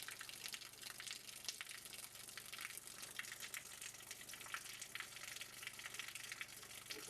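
Water flows and gushes steadily while a sound played at a specific frequency alters its flow. The noise is a soft, continuous rush heard alone.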